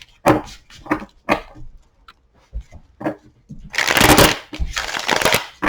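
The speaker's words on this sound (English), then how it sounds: "Let's go ahead and get 6 shuffles and then lay out 6 cards to get into your toxic workplace reading." Tarot cards being shuffled for a six-card reading, heard as a run of short papery riffles and taps, then two longer dense bursts of shuffling close by.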